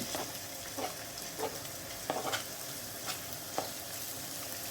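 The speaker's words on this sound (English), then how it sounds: "It's making a sizzling noise, so we'll stick it all in." Chicken thighs sizzle in a hot stir-fry pan as a steady, dense hiss that runs throughout, broken by occasional sharper spits and crackles close at hand.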